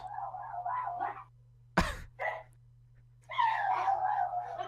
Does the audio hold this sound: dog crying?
yes